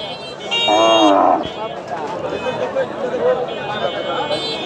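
A single loud cow moo rings out near the start, then a crowd of people keeps talking at the bustling Basunia cattle market set up on a main road.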